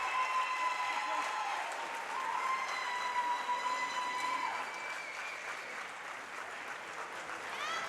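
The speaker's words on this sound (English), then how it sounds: "there's the applause for Lincoln Southwest's" At a state high school swimming championship, applause rises for a swimmer's introduction, a steady distant wash of clapping in a reverberant natatorium with tonal whistle-like sounds and talk alongside.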